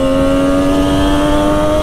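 A 2009 Triumph Daytona 675 engine holds a steady, high-pitched whine at constant revs, loud and close, with a sustained tonal drone throughout.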